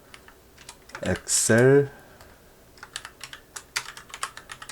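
Someone types into a search box on a computer keyboard while working in Excel. Light, quick key clicks come in an uneven patter, and a person speaks briefly in Korean near the start.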